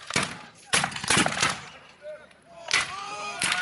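American Civil War reenactors at a Whitby war weekend firing muskets by file, a ragged series of sharp separate gunshot cracks spaced unevenly, moderately distant, with someone speaking between shots.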